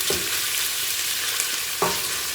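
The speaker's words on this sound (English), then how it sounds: "I'm frying up some meat right now and some olive oil" Meat frying in olive oil in a pan, a steady close sizzle with a couple of brief stirring scrapes, and no voices.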